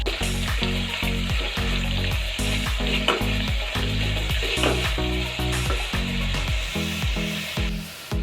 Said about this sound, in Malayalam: എന്നിട്ട് നന്നായിട്ട് വഴറ്റി കൊടുക്കുക